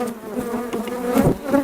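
Honey bees swarm thickly over the top of a hive excluder, their dense, close buzzing droning steadily with rising and falling swells, loud and alone without talk.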